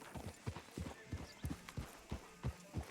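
Horse hooves in Red Dead Redemption 2, a steady walking clip-clop of regular, fairly close hoofbeats at a low level, with no talk over them.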